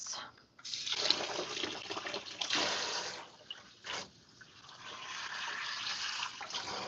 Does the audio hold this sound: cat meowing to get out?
no